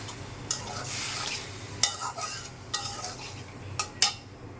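Spices sizzle in a pan after a splash of water goes in while cooking a rohu fish curry with tomato and potato, a soft steady hiss broken by several sharp clinks and scrapes of a spoon stirring.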